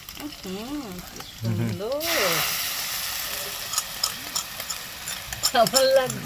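Cauliflower manchurian fries and gets stirred in a pan, with a burst of sizzling hiss midway and scraping stir sounds, under a voice talking near the start and end.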